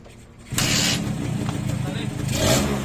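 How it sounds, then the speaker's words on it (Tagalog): A restored Suzuki X4 motorcycle engine catches after a quiet moment and settles into a close, rumbling idle with slight revving, with voices in the background. "Paandarin na lang natin kung aandars."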